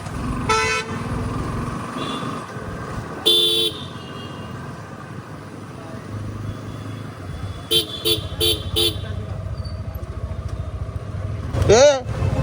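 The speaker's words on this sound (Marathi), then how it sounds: "नवरात्रीची गर्दीमुळे ट्राफिक झालं" Busy road traffic with engines rumbling during a Navratri festival crowd, broken by several car horn honks, including a quick run of short toots and a vehicle passing close by.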